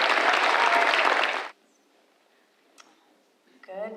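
Audience applause at a school culminating ceremony, loud dense clapping for about a second and a half that cuts off abruptly into quiet, followed by a few faint clicks and then a voice beginning to speak.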